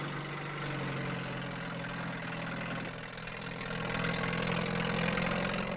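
Lorries and tractors haul stores and equipment inland across treacherous island sand, a steady low engine drone and idle rumble that dips briefly midway and then swells slightly louder.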